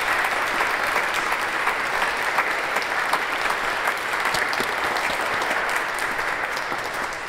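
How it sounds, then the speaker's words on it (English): A church congregation at a Sunday service applauds veterans standing in their honour, a full, steady roar of many hands that stays even and sustained for several seconds with no talk over it. "please, let's give them a round of applause."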